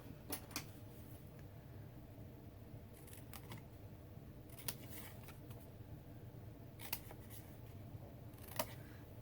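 A handful of quiet, crisp snips from scissors cutting scored paper for a pinch box treat bag, spaced irregularly over a soft background hum.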